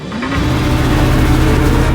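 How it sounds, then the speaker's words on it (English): A souped-up sports car in the video game Just Cause 3 revs up hard, its engine roar climbing quickly and then holding loud and close, alone without talk. "Now let's take to the roads in a souped-up sports car."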